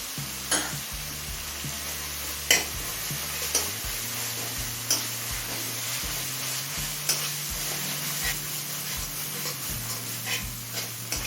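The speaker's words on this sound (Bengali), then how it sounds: "আদা রসুনের কাঁচা গন্ধ চলে যাওয়া পর্যন্ত কষিয়ে নিলাম" Ginger garlic paste fries with spices in a pan over medium heat, a steady close sizzle broken by regular sharp ticks and scrapes of stirring, heard alone.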